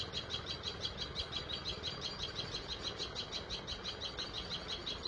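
Sharp, high chirps from a tailorbird repeat in a quick, even pattern, carrying steadily over a soft outdoor hum.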